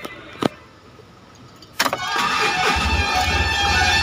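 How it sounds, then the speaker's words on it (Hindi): A Tata Ace Gold BS6 mini truck with a diesel engine, after a starting problem and DPF regeneration, cranks briefly and then settles into a steady close idle, preceded by a couple of clicks and no talking. "वापस स्टार्ट करके दिखाते हैं।"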